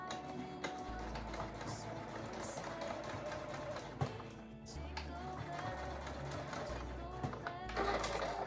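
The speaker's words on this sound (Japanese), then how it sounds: "リボンの形に縫っていこうと思います" A sewing machine stitches a ribbon in several runs of steady, rapid mechanical whirring and ticking, stopping and restarting between bursts, fairly close and moderately loud.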